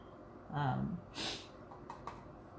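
A short voiced breath from a person with a cold, followed by a quick, breathy sniff through the nose, faint and close, then a couple of smaller sniffs.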